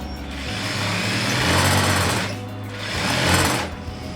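A sewing machine stitching the seam of a piped, zippered pillow cover, a fast steady mechanical whir in two runs with a brief pause between, close and clear with no voices.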